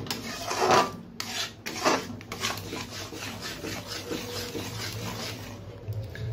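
Chhana (cottage cheese) mixed with powdered milk being stirred in a pan for sandesh, giving soft rasping scrapes with a few sharper strokes, close and fairly quiet.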